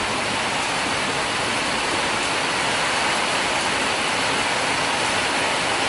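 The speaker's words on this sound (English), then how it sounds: "This is like a good rain in England." Tropical rain pouring steadily onto a garden, a dense, continuous wash of hiss that stays even and fairly loud throughout with no voices.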